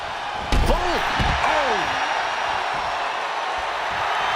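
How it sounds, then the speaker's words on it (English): A scoop slam in the WWE 2K25 wrestling video game, a heavy thud of a body hitting the mat followed by crowd noise, with voices heard over the arena ambience. "Scoop slam."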